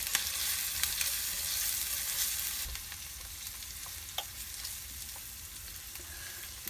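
Onions fry in oil in a cast iron skillet, giving a steady, close sizzle with scattered crackles and pops; the hiss is loudest early, eases slightly after a few seconds, and runs with no voices.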